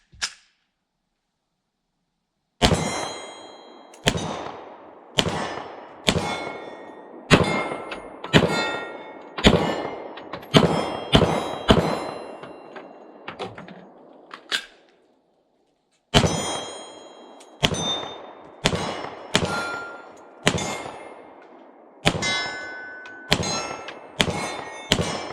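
A Glock 20 Gen 5 MOS 10mm pistol fires a long series of shots at steel targets outdoors, each sharp bang followed by a ringing metallic clang, in two strings separated by a brief pause, no voices.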